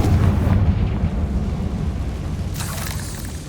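A Confringo blasting spell explodes in the Hogwarts Legacy video game, a loud, deep boom that rumbles and slowly decays, with a second burst of crackling debris near the end.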